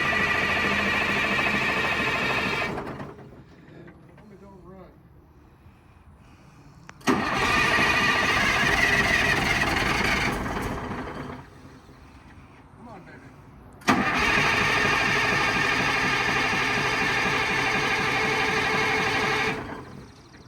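An M920 medium equipment transport truck that sat unused for about ten years is cranked and started twice: loud diesel engine bursts that run for several seconds, separated by quieter gaps with faint hissing from air leaks.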